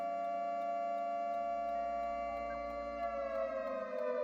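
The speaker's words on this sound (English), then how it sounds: "If I lit him up, the nuclear siren will go off" A nuclear siren in the Alex's Caves Minecraft mod blares as a steady, loud synthetic tone with layered harmonics, holding continuously without any talking.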